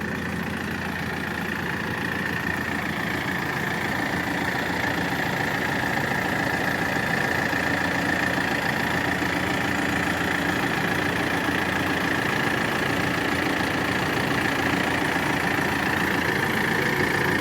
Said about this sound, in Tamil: ஒரு மிஷின்லேருந்து இன்னொரு மிஷினை கட்டி இழுக்கிறாங்க